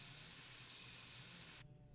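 A steady, close hiss of spray paint coats car fenders in the My Summer Car video game, running continuously for over a second and a half before cutting off abruptly to a faint background hum.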